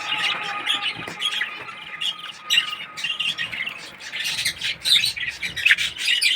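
An angry pet lovebird or cockatiel, a mother with babies in the nest pot, squawks harshly in repeated loud, rasping bursts close by, with scratchy rubbing sounds between calls.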